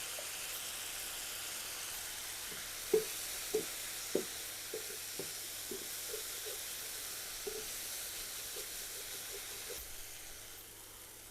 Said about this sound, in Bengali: মশলাটা কষিয়ে নিয়েছি